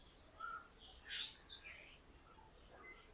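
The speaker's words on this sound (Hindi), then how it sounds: "वो चिड़ियों की आवाज भी देखो कैसे सुनाई दे रही है।" Several birds chirp and tweet in quick, high bursts, fairly faint against a quiet background, with softer calls trailing off toward the end.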